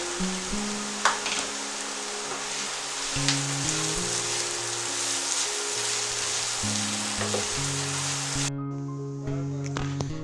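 Cut potatoes sizzle loudly as they sauté in a pan over a medium flame, with a steady frying crackle and occasional stirring taps.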